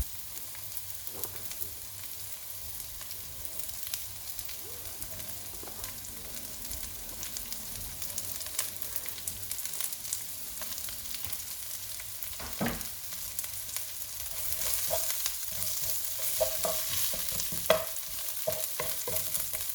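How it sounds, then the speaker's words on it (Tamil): Onions, green chilies and crushed tempering spices frying in oil for a Sri Lankan crab curry make a soft, continuous sizzle with occasional stirring scrapes, growing a little louder and brighter toward the end. "onions, green chilies நான் இடித்து வச்ச தாளிப்பு எல்லாத்தையும் பொரிய விட்டுருப்பேன்."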